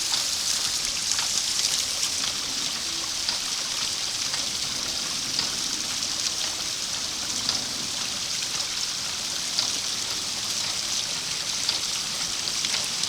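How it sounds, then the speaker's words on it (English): A water feature fed by a well pump gives a continuous close splashing and trickling of flowing water, even and steady throughout. "There is my water feature."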